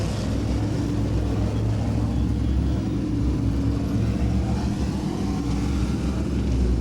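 Modified race cars circling the oval at Langley Speedway under a green flag restart, a steady, dense engine roar blending into one continuous low rumble throughout, loud and unbroken.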